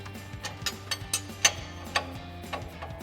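A 22mm wrench works loose a suspension bolt on a 2007-2021 Toyota Tundra during a lift kit install, giving a series of close metallic ratcheting clicks and ticks at an uneven pace.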